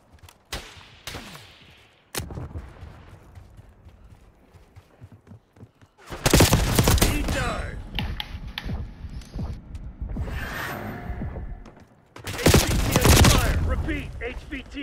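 Heavy bursts of automatic gunfire from a Call of Duty Black Ops multiplayer match, loud sustained volleys around the middle and end with scattered single shots and quieter game sounds between.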